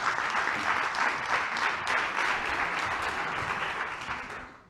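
An audience at a conference talk applauds steadily for several seconds, a dense, even patter of many hands that fades off at the end.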